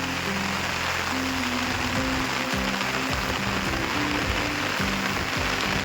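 Heavy rain pours down outdoors in a dense, unbroken roaring hiss that holds steady throughout, with faint tonal sounds running beneath it.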